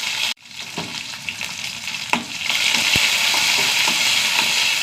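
Shallots, dried chillies and curry leaves frying in hot oil, a steady loud sizzle after the ingredients drop in, with a few stirring clinks.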